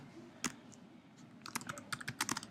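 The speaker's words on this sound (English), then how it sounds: "typing their names and hitting enter" Typing on a computer keyboard, finishing with a press of the enter key: a single sharp click, then a quick run of light, irregular keystrokes, fairly faint and close, with no talking.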